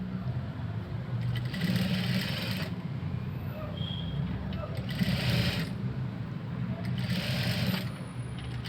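A sewing machine stitches piping onto a georgette blouse in three steady, close bursts of whirring, each a few seconds long with short pauses between, under a constant low hum.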